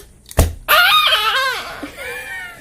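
A storyteller's voice imitates a sharp gunshot pop, then slides into a long, loud, wavering scream, all close to the microphone.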